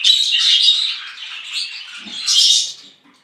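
Budgerigar chicks chirp in a busy, high-pitched run of tweets, loudest at the start and again near the end, close by with no talking.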